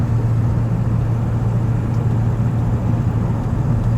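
A 2002 Ford Excursion with a 7.3L Powerstroke diesel cruises at 60 mph around 1700 RPM, giving a steady low cabin rumble and drone with road noise, continuous and even, no voices.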